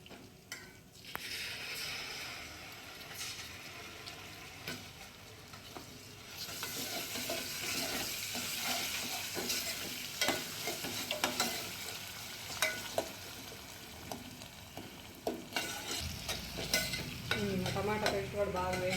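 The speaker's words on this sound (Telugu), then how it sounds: "టమాటా పేస్ట్ కూడా బాగా వేగిపోయిందండి." Tomato paste and Maggi masala fry with ginger in a pan, a quiet steady sizzle broken by repeated stirring and spoon scrapes, with no voices.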